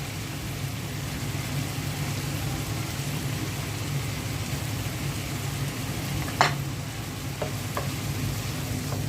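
Prawns frying in spice paste in a pan, a steady low sizzle with a few sharp stirring scrapes, close and continuous, with no voices.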